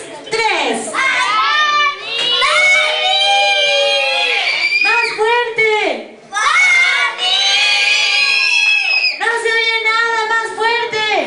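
Children at a seventh birthday party shout loudly together in unison, several sustained high-pitched bursts separated by brief pauses, close and filling the room.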